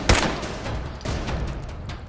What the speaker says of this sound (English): Where the hell am I getting shot from now?